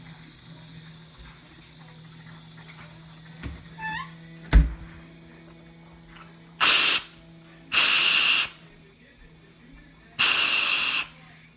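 Three loud bursts of CO2 gas hiss as oxygen is purged from a ball lock keg with a pressure relief valve, each lasting about a second, preceded by faint clicks and a sharp knock.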